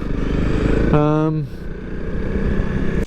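A motorcycle engine drones steadily while riding, with a rising then falling tonal whine partway through and continuous wind and road rumble; no speech is heard.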